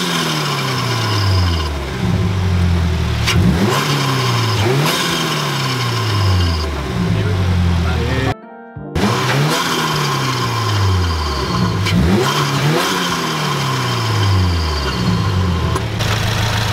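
A 2022 Subaru WRX fitted with an ETS intake and tune revs up and down repeatedly, loud and close, with rising and falling engine sweeps and a brief gap midway.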